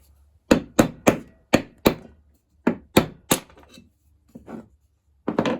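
Sharp, ringing taps on a Stihl MS660 chainsaw crankcase as it is split with a screwdriver. Around a dozen close, loud strikes come in quick uneven clusters with short pauses, ending in a fainter knock or two.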